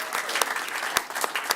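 A church congregation claps and cheers for its volunteers, the choir, nursery workers and coffee makers, a dense, steady burst of applause filling the room for the whole moment with no speech.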